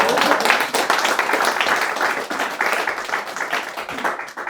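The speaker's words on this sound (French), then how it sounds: "Applaudissez la performance des vocalistes" An audience claps for a vocal performance, with dense, uneven clapping that rises and falls over several seconds.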